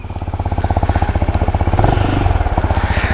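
A Benelli Imperiale 400 motorcycle's single-cylinder engine thumps in a rapid, steady pulse while riding through Bucharest city traffic, loud and close, rising slightly in pitch and intensity partway through.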